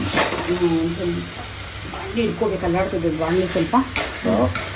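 A spiced mixture cooks in a pan before being mashed, sizzling and bubbling steadily up close while a voice talks over it and a spoon stirs.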